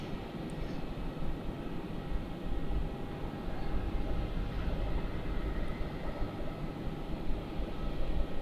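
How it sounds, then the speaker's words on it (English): A Jetstar airliner, a Boeing 787 from Sydney, lands on runway 16 at Melbourne Airport, heard as a broad continuous roar of engine and rushing air, steady and fairly loud, with no talk. "So Jetstar about to land on 16"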